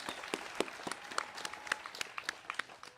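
Light applause breaks out at an 8th grade graduation ceremony, with a modest crowd clapping in distinct, fairly sparse claps over a few seconds, fairly quiet and without voices.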